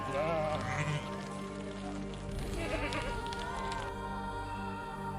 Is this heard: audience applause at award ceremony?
no